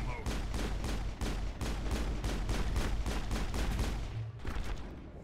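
Rapid pistol shots ring out in the Mass Effect PC game, a loud, dense run of evenly spaced cracks lasting about four seconds before tapering off.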